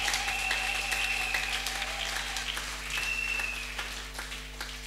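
A church congregation applauds with steady, dense clapping, continuous for several seconds and slowly tapering, with a faint tone ringing through it.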